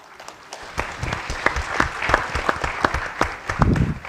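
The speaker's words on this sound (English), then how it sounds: "A round of applause, ladies and gentlemen." An audience at a high-level climate conference session applauds with dense, steady clapping for about four seconds, swelling slightly toward the end.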